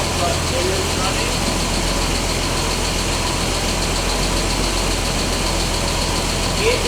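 An old V12 car engine that sat for 20 years idles steadily with a low, even drone, running continuously close by.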